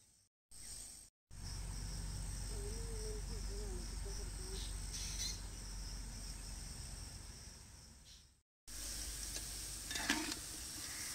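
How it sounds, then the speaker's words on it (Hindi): Onions frying in ghee during village cooking of yakhni chicken pulao make a soft, continuous sizzle with a high insect-like chirr. Short silent gaps break the sound. "घी के अंदर प्याज डाल रहे हैं।"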